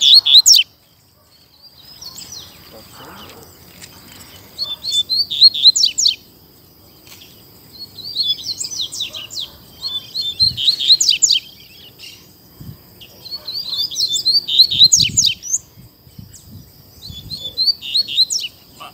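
A loose double-collared seedeater sings outdoors in strong, bright bursts of rapid chirping trills, repeated in several phrases across the clip with short pauses between them, over faint insect hum and a few low knocks.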